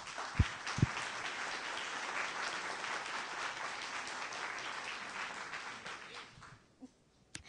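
Crowd applause in a hall during a Python programming talk at the FISL conference, a sustained wash of many hands clapping, with a couple of sharp knocks near the start and the clapping thinning out toward the end.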